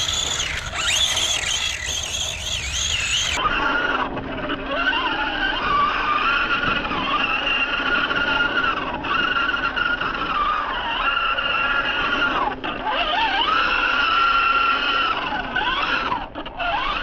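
A Tamiya Blitzer Beetle brushless RC car with a 2050 kV motor, ball bearings and metal gears whines and revs as it drives on sand, its high motor pitch rising and falling continuously up close.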